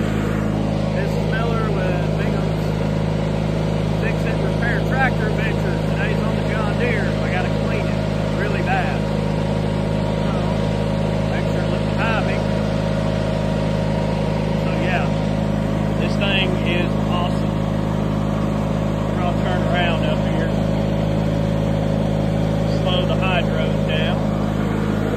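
A 1989 John Deere 316 garden tractor with a 16 HP, 782cc Onan engine runs at a steady, constant drone throughout, while someone talks over it.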